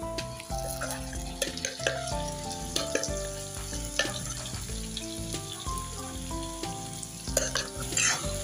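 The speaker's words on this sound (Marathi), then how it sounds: "आता हा मसाला कारल्याबरोबर चांगला परतवून घेऊ." Bitter gourd sizzles and fries with masala in a pan while a spoon stirs, close and steady, with frequent scraping and clinking of utensil against the pan.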